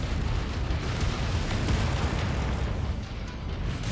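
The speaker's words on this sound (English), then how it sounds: "the only thing that we can do here is shooting off the outer parts of the building" Parts of a building are shot off and blown apart in a video game, dense continuous explosive rumble and crackling debris, loud and unbroken, with no talk.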